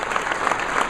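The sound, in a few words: audience applause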